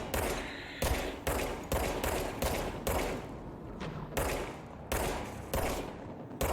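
Repeated bursts of gunfire in the video game Control, loud and close, in several separate volleys with short gaps and no talking.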